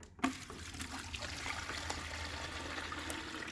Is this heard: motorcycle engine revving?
no